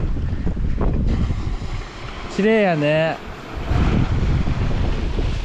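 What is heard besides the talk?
winter sea waves and wind on the Izu coast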